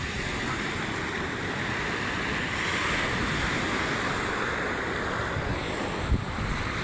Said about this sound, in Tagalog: Malalaki pang alon ng habagat